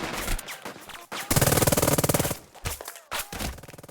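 Machine gun fire in the WWII tactics game Burden of Command: loud rapid bursts of automatic fire with sharp individual shots, one long sustained burst in the middle, alone without voices.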